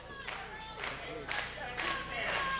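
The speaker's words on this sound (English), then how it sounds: "This crowd egging her on." A wrestling crowd cheering on Mia Yim, rising and falling in bursts of distant shouts and claps under a commentator's voice.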